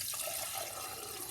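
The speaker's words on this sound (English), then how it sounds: "I'm going to pour it from the pitcher" Limoncello pours from a pitcher into a measuring cup in a close, steady hiss of running liquid with no pauses.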